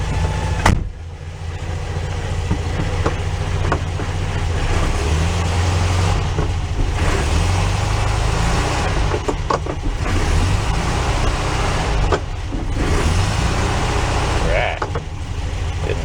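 A VW Bug with a swapped transmission revs up and pulls through the gears, its engine note rising and falling in several steady climbs, heard from close inside the car at a constant loud level.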